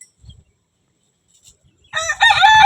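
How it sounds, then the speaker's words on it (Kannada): A white rooster crows loudly and close by, its call rising out of near silence after a few soft thumps and carrying strongly to the end. "ಫುಲ್ಲು ಬಿಳಿ ಹುಂಜ"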